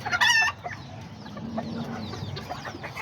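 Serama chickens cluck close by, with a brief louder bird call at the start followed by steady, fainter clucking and rustling over low background noise.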